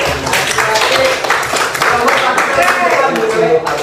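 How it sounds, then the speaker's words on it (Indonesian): A small group applauds at an Indonesian event, with clapping close and fairly loud under a lively, voice-like texture that suggests cheering or chatter mixed in. "Tepuk tangan lagi."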